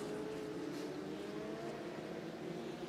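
Historic Formula Junior race cars, fifty of them warmed up on the grid at The Classic, idle and burble together in a steady, fairly quiet engine drone heard from a distance.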